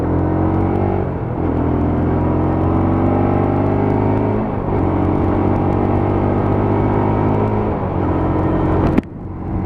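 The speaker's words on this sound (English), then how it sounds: "There we go, a little bit of exhaust noise for you." Lexmoto LXR 125cc motorcycle exhaust while riding on the road, a loud steady engine drone with a couple of rising gear-change sweeps, ending in a sharp burst of wind noise.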